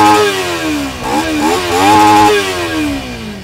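A 2021 Kawasaki Ninja 300 BS6 with a side-mounted single-barrel exhaust idles close by and then blips its throttle in a few quick revs that rise and fall, loud and with no voices.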